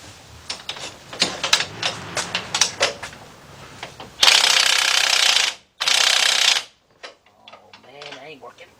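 A ratchet tightens a bolt on the suspension of a 2005 Chevy Trailblazer with a run of sharp, close clicks, then two loud bursts of a rapid buzzing ratchet spin and a few scattered clicks with faint movement noise.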